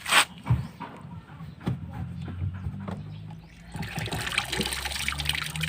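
A Samsung WP-882TR washing machine releases its drain water, a steady trickling and gushing flow that grows louder and broader in the second half, with a low mechanical hum beneath.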